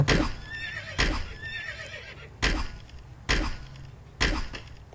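A horse whinnies in Roblox Dead Rails, its high, wavering cries rising over several sharp, evenly spaced impact thuds, all close and fairly loud with no talk.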